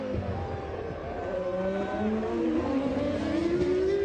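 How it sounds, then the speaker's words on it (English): Formula One cars, a McLaren Mercedes and a Stewart Ford, scream down a racing straight, their engine notes rising steadily and layered together as they close in, loud and sustained over a broadcast background. "The McLaren Mercedes more than a match for the Stewart Ford down the straight"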